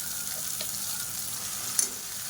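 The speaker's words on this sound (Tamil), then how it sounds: "இப்போ இதில் நம்ம அரைச்சி வச்சுருக்க இந்த புதினா பேஸ்ட்டை சேர்த்துக்கலாம்." Ground mint paste hits hot oil for a mint thokku, giving a soft, steady sizzle and frying crackle with a brief sharp pop near the end, fairly quiet and without talk.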